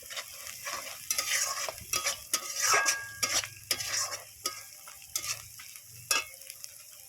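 Spices with dried red chillies are being sautéed in a pan for a Bengali fish curry, giving a steady close sizzle with repeated scraping and stirring strokes of a spatula, and no talk.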